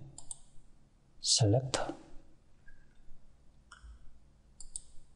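Mouse clicks during modeling work in Inventor 3D CAD software, a few sharp, faint, close clicks spaced apart, with a brief burst of speech in the middle.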